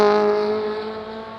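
A Ferrari race car from the Pirelli Ferrari Formula Classic at Oulton Park screams past on track, its loud, high engine note sliding gently lower as it moves away, heard on its own.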